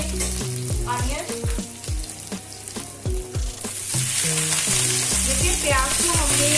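Sliced onions hit a hot pan for restaurant-style chilli chicken, setting off a loud, steady frying sizzle with stirring clatter and scrapes over it, and no voices.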